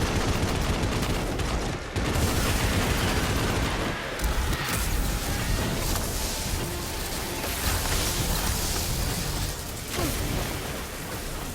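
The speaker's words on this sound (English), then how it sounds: "I'm going to try and get rid of the witches with my machine gun" Sustained machine gun fire in Destiny, in the solo warlock Ascendant challenge, roars almost without pause, dense and loud, with brief dips between long bursts and a few heavier booms.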